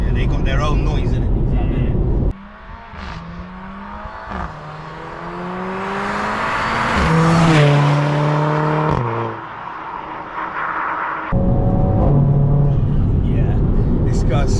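A Mercedes A45 AMG with a turbocharged engine accelerates hard through several gears, a climbing engine note broken by shift drops, with a high whine on top and talk before and after.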